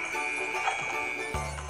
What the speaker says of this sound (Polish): dzwonek na lekcję?